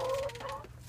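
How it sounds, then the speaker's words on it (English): Backyard chickens cluck softly while pecking at small hive beetle larvae, a short burst of close, low clucks with no talking. "And so now the chickens are just having fun with it."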